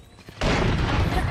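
A single loud gunshot bursts out in a Valorant match, a sudden heavy blast followed by a dense, sustained roar of gunfire noise for about a second.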